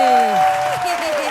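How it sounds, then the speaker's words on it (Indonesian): Crowd applause bursts out at an Indonesian Tuku anniversary celebration in Malang, a dense wash of clapping lasting about a second, with voices and talk layered over it. "tepuk tangannya dong."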